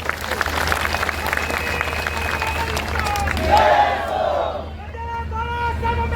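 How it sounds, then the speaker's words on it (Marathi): Cheering, shouting and applause from a large crowd at an outdoor protest march against an RSS office in Aurangabad, a dense roar that swells near the middle and then thins, with whistles and scattered voices toward the end. "आपल्या सर्वांसाठी एकदा जोरदार टाळ्यांचा हात होता"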